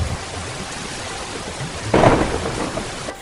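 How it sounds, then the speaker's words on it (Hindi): Heavy rainstorm with wind, a steady loud wash of rain, broken about two-thirds through by a deep rolling thunderclap that swells and lingers; no voices. "एक रात तेज आंधी और बारिश आती है।"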